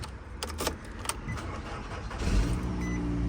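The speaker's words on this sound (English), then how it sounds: "I mean, it started up." A 2018 salvage car bought at auction is started with a key: a light jingle of keys comes first, then the engine cranks and catches about two-thirds through, settling into a steady, close idle.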